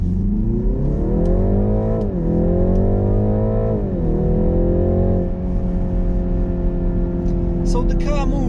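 BMW G20 330e Touring plug-in hybrid pulling away and accelerating, a steady engine-and-motor hum rising in pitch through gear changes, heard from inside the cabin at constant moderate loudness.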